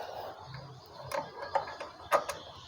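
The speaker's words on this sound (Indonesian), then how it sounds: "Kemudian ini dibuka untuk baut kalipernya." Motorcycle brake caliper bolt on a Honda Mega Pro being loosened with a tool: a few short, close metallic clicks and ratcheting ticks over quiet background, with no talking.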